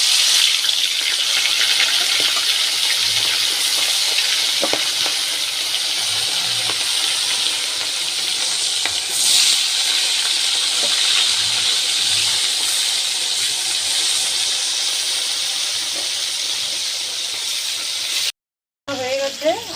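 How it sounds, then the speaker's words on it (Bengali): Fish fry in mustard oil in a wok with a steady bright hiss and sizzle, close up, sounding continuously until a brief silent cut near the end. "এবার আমি মাছগুলো ভেজে নেব।"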